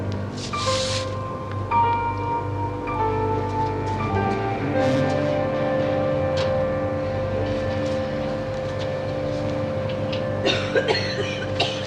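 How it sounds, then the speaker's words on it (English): A short cough bursts out early on, and another rough cough comes near the end over a steady humming background. "You should have something done about that cough"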